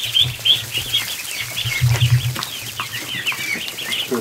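A small group of newly hatched ducklings peeps continuously, high and close, with overlapping chirps and a soft low hum underneath, in a bedroom where duck and goose eggs are hatching.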